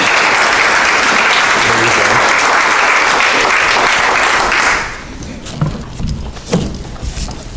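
Loud sustained applause from an audience welcoming Reverend Kathy McCall onstage, a dense wash of clapping that fades after several seconds into scattered claps and faint murmurs.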